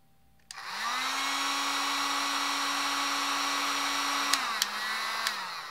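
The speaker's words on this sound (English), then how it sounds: "So I have a heat gun here and I'm applying some heat." Heat gun blowing hot air near a K-type thermocouple, switching on with a click and a steady close whirring hiss, then dropping slightly in pitch near the end, with a few sharp clicks.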